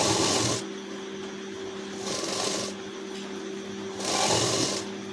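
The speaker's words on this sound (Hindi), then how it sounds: "अब सिलाई को डबल करते हुए सिलाई चलाएंगे।" A sewing machine double-stitches a blouse seam in short, close runs, a buzzing whirr that rises in three bursts with softer hum between them.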